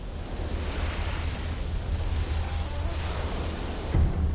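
Ocean surf washes along Fiji's vulnerable island coastline, a steady broad roar of breaking waves with a low rumble, heard alone and fairly loud for the full few seconds.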